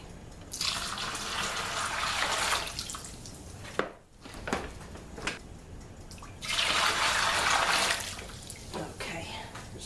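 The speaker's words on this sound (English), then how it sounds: "I'm going to rinse this bag out with some hot water." Hot tap water runs into a plastic bag of thick pear cider concentrate to rinse it out, a steady broadband splashing stream in two long bursts with a brief pause between, close and fairly loud.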